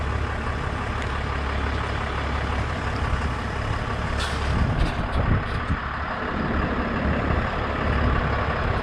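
Semi truck dropping its trailer, a loud diesel engine idling close by with sharp hissing bursts of air brakes and clanks midway, continuous rumble throughout.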